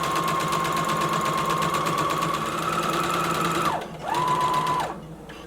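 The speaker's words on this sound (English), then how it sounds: "I'm going to lower my needle, begin sewing, back stitch, and I'm going to continue sewing until I get to that top notch in the pocket." A sewing machine stitching a maxi skirt seam runs as a steady close mechanical whir for nearly four seconds, stops briefly, then restarts for a short backstitch burst before cutting off, with no voices.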